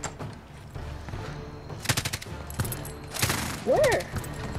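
Bursts of automatic gunfire from pre-firing in Call of Duty Warzone crackle in two short volleys, loud and close, with a rising synthetic whine near the end.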